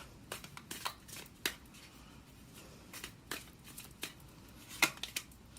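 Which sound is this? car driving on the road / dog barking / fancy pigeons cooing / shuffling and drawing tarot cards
shuffling and drawing tarot cards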